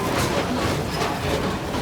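A theme park train ride at Busch Gardens gives a dense, steady rumble and rattle of rolling cars throughout, loud and close, with no talking.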